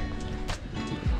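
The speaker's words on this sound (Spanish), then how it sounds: "Pega fuerte el viento." Strong wind gusts across the cold summit of El Pital in Chalatenango, El Salvador, roaring and buffeting loudly against the microphone in a brief burst.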